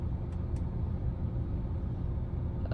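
A car's engine idles steadily, a low, continuous rumble close by with no talk over it.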